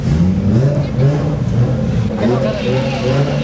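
A twin-turbo inline-four car engine is revved repeatedly close by, its loud growl rising and falling in several quick pulses.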